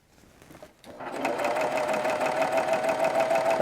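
A serger sewing machine runs at steady speed gathering fabric for rosettes, a fast close mechanical whir with rapid rhythmic stitching ticks after a quiet start.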